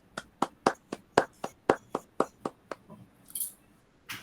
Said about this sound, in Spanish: Creo que el profesor Jorge Páez merece un aplauso de parte de todos.